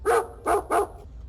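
A trained dog lets out three short, sharp barks in quick succession, loud and close, followed by quiet.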